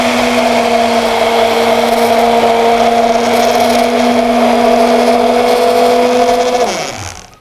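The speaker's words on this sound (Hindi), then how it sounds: "इसके बाद लीजिए हैंड ब्लेंडर बहुत ज़रूरी है," A hand blender whirs steadily and loudly while mixing eggless mayonnaise made with chilled soy milk, oil and mustard powder, holding a constant motor tone before winding down at the end.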